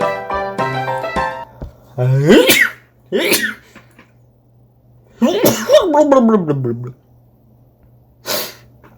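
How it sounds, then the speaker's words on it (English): Close-up sneezing: a short voiced sound, then several loud, wet sneezes with gasping inhales between them, each a sharp burst. "Oh, I'm gonna sneeze."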